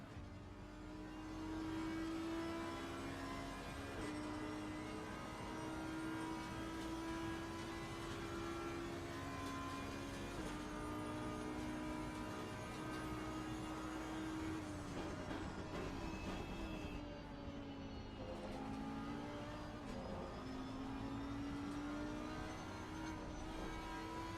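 Race cars in the video game Assetto Corsa Competizione roar in a steady, continuous engine drone with shifting pitch that dips as gears change, and no talking.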